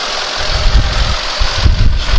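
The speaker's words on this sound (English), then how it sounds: "engine running under the hood" A 2001 Mercedes ML55 AMG SUV engine idles loud and close, with a rough, pulsing low rumble and a mechanical clatter, heard alone without talk.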